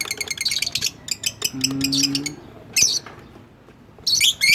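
Lovebird chicks chirp in bursts of rapid, high, thin tweets at close range, broken by short pauses and a brief low hum, with no voices.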